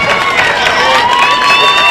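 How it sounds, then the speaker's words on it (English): A crowd in a junior livestock show arena applauds and cheers a young exhibitor's winning gilt: a dense, loud burst of clapping and raised voices, close and continuous for a couple of seconds. "Give her a big round of applause."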